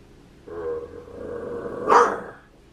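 A small fluffy dog barks and growls in one close, sharp outburst rising to a loud peak, after a softer lead-in of low vocal noise.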